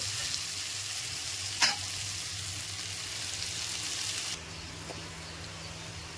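Bitter gourd and potato pieces fry over a low flame, making a constant soft sizzle with one sharp scrape of stirring early on. The hiss drops noticeably quieter near the end.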